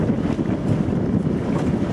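Constant low rumbling drone of an electric speedboat running across open water, mixed with wind buffeting the microphone, with no talking.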